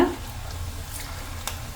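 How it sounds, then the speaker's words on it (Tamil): Kola urundai, spiced meatballs, sizzle steadily in hot oil, a close, continuous crackling hiss with a brief louder splutter at the start and no talking. "எண்ணெயில் போட்டு பொரித்து எடுத்துக்கலாம்"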